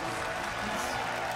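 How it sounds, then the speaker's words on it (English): Crowd applause fills an esports arena for a retiring League of Legends player, a dense, steady wash of clapping throughout the brief moment. "And there's the applause for Dyrus."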